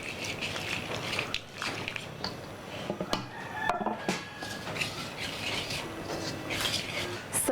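Fresh coconut milk being stirred into banana batter for Balinese steamed cake, a continuous close scraping and clicking of utensil against bowl, with a soft wet texture throughout.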